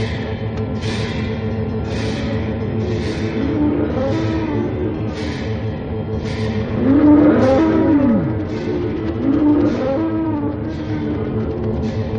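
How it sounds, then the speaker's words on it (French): A herd of cattle, cows, bulls and buffalo, lowing in long overlapping moos over a dense rumbling bed of hooves and movement, loud and continuous with no talk. "Toi, frère Gris, les vaches, moi, les taureaux et les buffles."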